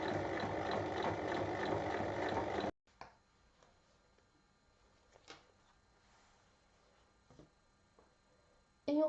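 A sewing machine fitted with a zipper presser foot stitches along a zipper on a fabric tote bag, a steady rapid mechanical whirr lasting about three seconds that stops abruptly, leaving faint clicks and handling noises.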